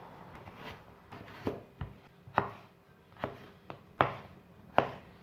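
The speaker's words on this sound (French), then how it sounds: "Je vais faire comme ça, faire des gros bouts. Voilà, on débarrasse. Couper les carottes." A knife chops carrots into large chunks on a cutting board, about eight sharp, close thuds in an irregular rhythm, with no talking.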